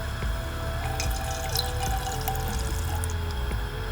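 Water from a cup hits a hot Tefal wok and boils, giving a steady sizzling, bubbling hiss with faint pops and a low hum underneath, fairly quiet throughout.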